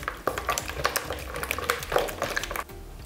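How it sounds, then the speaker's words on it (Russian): Spoon stirring salt and sugar into a yeast-free dough mixture for pirozhki in a bowl, with close, irregular scraping and soft wet knocks for about two and a half seconds, then stopping. "Все вместе теперь хорошенечко перемешиваем."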